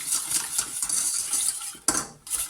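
A spoon or whisk scrapes and clinks around a pot, stirring a lemon cream over low heat in quick, continuous strokes with one brief pause, close and fairly loud.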